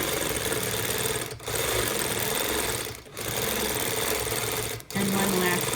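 Sewing machine doing free-motion quilting of McTavishing fill petals, a loud steady mechanical whir that runs continuously and stops briefly three times before resuming.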